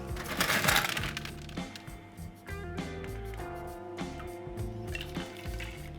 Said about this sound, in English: now we're going to load up with some ice